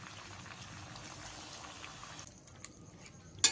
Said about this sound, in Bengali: এবারে আমি এখানে পরিমাণ মতন জল দিয়ে দেবো।